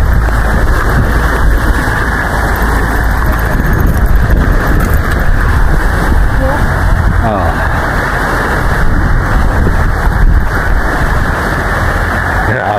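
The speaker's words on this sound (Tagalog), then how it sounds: "Grabe, laki ng alon." Large ocean waves crash and roll at Nagsasa Cove beach in Zambales, a loud, continuous broadband roar of surf filling the whole stretch with no pause.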